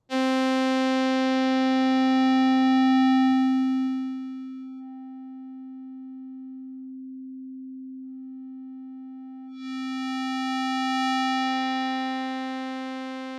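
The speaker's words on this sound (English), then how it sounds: "You can sweep through the various waveforms in a table using the position knob" A steady Korg modwave synth tone holds one pitch while sweeping through wavetable waveforms, its timbre morphing: bright and buzzy, thinning to a pure hum, then brightening again.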